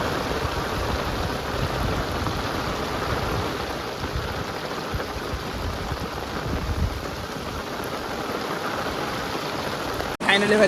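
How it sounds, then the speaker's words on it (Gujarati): Heavy rain pours down steadily in a dense, constant roar that continues without pause, ending with a brief sharp knock. "ભારે વરસાદ આવ્યો ભાઈ ભારે વરસાદ આવ્યો"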